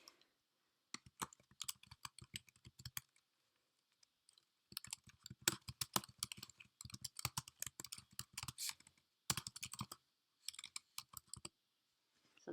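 Bursts of rapid computer keyboard typing as a chart title is entered, the clicky keystrokes arriving in quick irregular runs separated by short pauses, close and dry with no voices.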